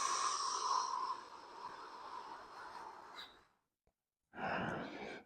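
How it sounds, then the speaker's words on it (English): Long breathy exhale during a slow qi movement practice, a broad airy rush that fades into near silence before a second short breath returns near and fairly loud. "And exhale, let it go down"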